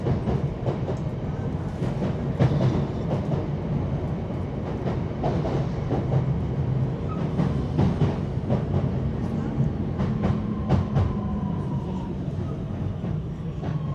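A passenger train running on the Glossop line in Greater Manchester, heard from inside as a steady rumble with rhythmic clickety-clack of wheels over rail joints, continuous and fairly loud throughout, with faint voices underneath.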